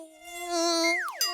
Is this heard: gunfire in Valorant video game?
no